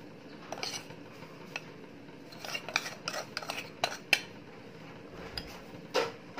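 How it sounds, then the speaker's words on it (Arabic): Sliced onion being stirred and tossed with flour and starch in a bowl, giving light scraping and clinking of a spoon in irregular close taps, with no talking. "نقلب البصلايه"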